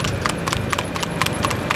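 A three-year-old desi mare's hooves clip-clop in a quick, even rhythm on hard ground, close and steady with no talk.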